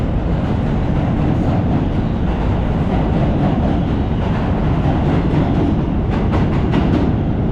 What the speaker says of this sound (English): That was our local train going into Manhattan.